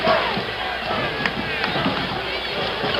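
A basketball arena crowd at a 1977 Marquette vs North Carolina national championship game roars and cheers continuously, loud and sustained, with an announcer's voice talking over it.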